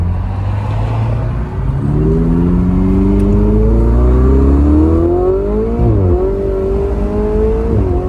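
A Ferrari 488 Spyder engine pulls hard through the gears, its loud, close drone climbing steadily in pitch, dipping briefly at a shift, then rising again over constant road noise.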